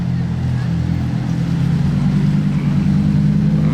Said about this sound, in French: Toujours impressionnant à voir une McLaren Senna, hein, franchement.